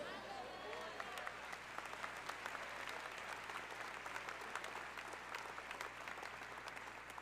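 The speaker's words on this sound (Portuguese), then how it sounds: "aplauda Jesus" A church congregation bursts into sustained, dense applause during a sermon, many hands clapping at once in a continuous wash, with crowd voices and a low steady hum underneath.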